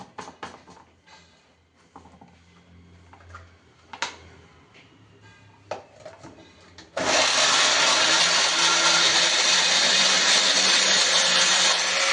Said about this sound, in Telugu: కొద్దిగా వాటర్ వేసుకొని గ్రైండ్ చేసుకుందామండి.